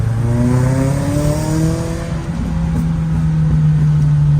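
A car engine roars steadily as it accelerates, loud and close, with its pitch climbing and shifting, though distinct exhaust pops are hard to pick out.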